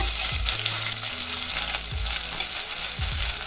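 Chopped medium onion dropped into hot oil with mustard seeds and cumin, sizzling loudly and steadily while a spoon stirs and scrapes the pan in a few distinct strokes.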